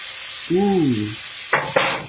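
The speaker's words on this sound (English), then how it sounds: "So we're going to let it sear on that side as well." Meat sears in a Dutch oven with a soft, steady sizzle, broken by a short hummed vocal sound and then two quick metallic clatters near the end.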